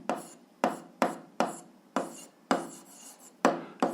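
Pen or pencil writing on paper during a seventh-grade algebra lesson, a run of distinct scratchy strokes in a clear rhythm, close and alone with no talk.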